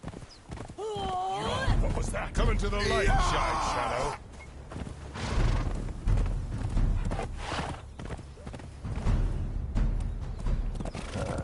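Horse hooves clip-clop steadily in the video game Conan Exiles, with whinnies and neighs early on, under a voice talking.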